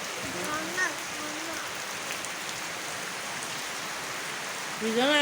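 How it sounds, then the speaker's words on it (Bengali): Steady nighttime rain during a lightning storm patters in an even, close hiss, with short bursts of speech at the start and end. "বৃষ্টির শব্দ"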